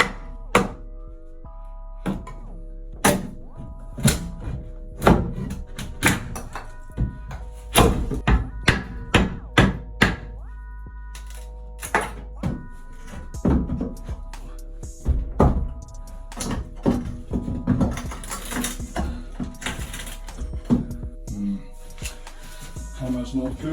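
Hammer striking nailed wooden batten strips beside a radiator in a bathroom, a long irregular series of sharp knocks and thuds, some in quick bursts, with pauses between.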